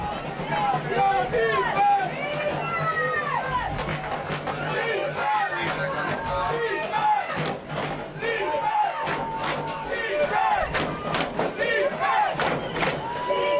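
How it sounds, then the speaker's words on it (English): Crowd noise from spectators at a Women's Football Alliance D2 playoff game between Houston Energy and Nevada Storm, a steady roar of shouting and cheering with bursts of whoops, mixed with babble throughout. "Boy, the crowd is getting into it."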